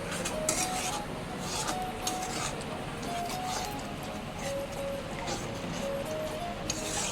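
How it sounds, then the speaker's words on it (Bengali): Spice masala with yogurt being stirred and sautéed in a pan, a continuous close scraping and rubbing of utensil against metal with a constant frying hiss underneath. "দইটা দেওয়ার পর মশলাটা আরেকবার কষিয়ে নিচ্ছি।"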